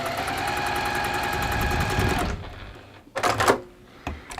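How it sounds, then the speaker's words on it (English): A sewing machine runs steadily for about two seconds, stitching two fabric squares together, then stops, followed by a few short clicks and handling noises close by. "You're going to sew those together, similar to the centre."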